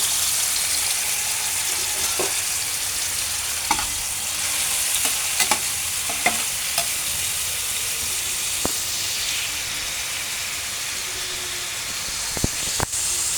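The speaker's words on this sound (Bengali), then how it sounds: "আমি এখন হালকা করে ভেজে নেব বেশি ভাজবো না কারণ চিংড়ি মাছ তো এমনিতেই নরম" Shrimp frying lightly in a pan with oil for a bottle gourd and shrimp dish, a steady close sizzle and hiss with a few sharp pops and utensil clicks scattered through, no talking.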